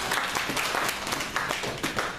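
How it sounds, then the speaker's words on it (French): A church congregation claps in acclamation for Jesus, a fairly quiet, uneven spatter of hands with some irregular louder claps rising through the sound. "Acclamons pour Jésus"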